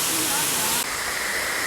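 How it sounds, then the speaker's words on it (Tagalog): Tarawis Falls, a waterfall in Rodriguez, Rizal, pours with a steady, close, broadband roar and hiss that fills the whole stretch, with only a brief dip midway. "dito tayo sa pangatlong falls sa Tarawis. Taas ng Tarawis Falls, Rodriguez Rizal"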